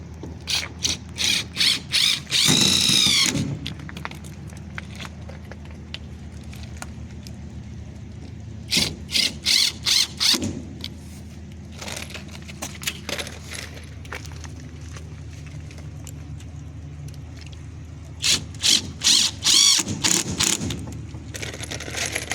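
Drill driving screws into Lexan greenhouse sidewalls in three separate bursts of rapid ratcheting clatter, close and sharp, with a quiet motor hum in the gaps between them.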